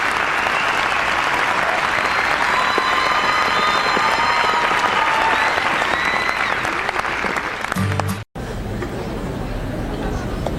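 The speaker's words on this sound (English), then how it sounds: "And a huge round of applause for Jumpin' Joe Savavchek." A large arena audience at a figure skating exhibition at the 1995 Vail Festival claps loudly and steadily, with some crowd chatter mixed in, before the sound cuts out abruptly near the end.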